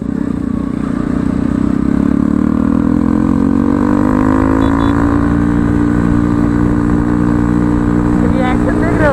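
A Bajaj Pulsar NS200 motorcycle fitted with a loud modified Akrapovic exhaust revs up close, its deep engine note climbing and holding steady with a raspy, rumbling drone throughout.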